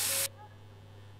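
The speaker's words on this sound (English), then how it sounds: "grab some of this bug spray" Bug spray can hissing in a single short, loud burst in the My Summer Car video game, cutting off abruptly into a low steady hum.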